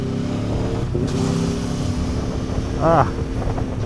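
A 2024 Aprilia Tuono 1100 Factory motorcycle engine drones steadily amid wind noise on a ride, the revs rising briefly near the end as a rough gear shift happens.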